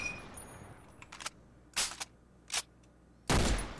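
Sharp gunshots from the top-down shooter OTXO, a Hotline Miami-style roguelite: a few single loud bursts spaced apart, then a longer heavy blast near the end, each punching over a quiet backdrop.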